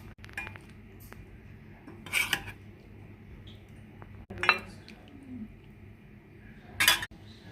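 Gongura chicken curry is spooned onto a plate with a few sharp clinks and scrapes of a metal spoon against dishes, spaced out over a quiet kitchen background.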